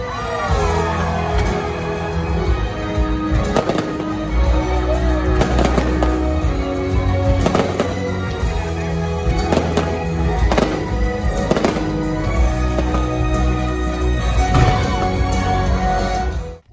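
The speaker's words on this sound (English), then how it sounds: "Ignite at SeaWorld Orlando has its own soundtrack and its own fireworks show, and it is really, really good." Ignite fireworks show at SeaWorld Orlando, a dense continuous barrage of bursts, crackles and booms, loud and sustained throughout with a music soundtrack mixed underneath.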